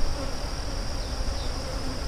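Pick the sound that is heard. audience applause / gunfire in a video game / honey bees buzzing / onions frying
honey bees buzzing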